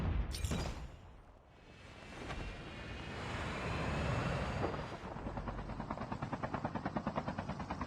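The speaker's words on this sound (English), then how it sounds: "I hear a helicopter, and I can't see it." A helicopter in the mobile game Call of Duty: Mobile roars in, first as a broad whooshing wash and then as a steady, fast rotor chop that grows close and loud.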